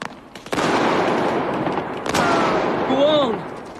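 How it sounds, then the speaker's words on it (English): Gunfire in a period drama set in Ireland: loud, sharp bursts cut in from about half a second and continue steadily, with a shout or high cry near the end. "Wait until Ida and Ursula open fire."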